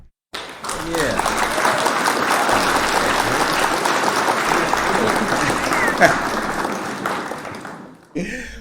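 A crowd applauds steadily for several seconds, a dense wash of clapping that fades out near the end, with voices under it.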